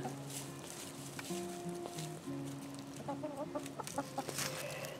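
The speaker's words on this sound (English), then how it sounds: "there's almost always roosters crowing in the background" Several roosters crow one after another at moderate distance, long drawn-out calls overlapping with clucking and background hum.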